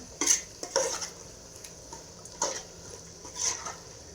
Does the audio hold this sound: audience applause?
no